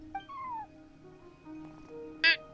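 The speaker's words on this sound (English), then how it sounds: "No one except for a cat watching over the front desk." Cat meowing at a front desk in a video game: a couple of short, clear meows over a quiet tonal background, ending with a brighter, sharper sound.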